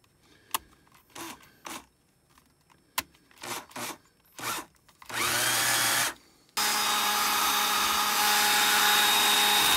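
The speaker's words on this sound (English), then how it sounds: "And then chuck the whole thing up in my drill." Several short bursts from a power drill, then the drill runs continuously at a loud, steady whine spinning a homemade 410 shotshell roll crimper chucked in it, pausing briefly before spinning on again.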